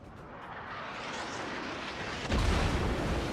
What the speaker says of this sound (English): Some shots coming in.